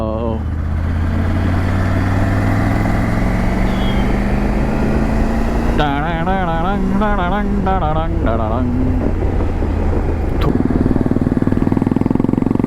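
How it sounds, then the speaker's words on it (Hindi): Royal Enfield Bullet Electra motorcycle rides along a coastal road with a steady, loud engine drone throughout, while someone talks over it. "ये अपने सामने बुलेट इलेक्ट्रा, ब्यूटीफुल बाइक"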